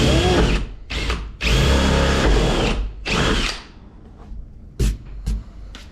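A power drill bores into a Hobie Cat 16 hull, starting slowly to make a divot. It comes as several loud, close, whirring bursts of varying length, then brief clicks and taps at the end.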